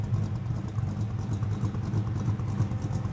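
A car's exhaust with straight-through mufflers idling, giving a steady, continuous low rumble at close range with no voices over it.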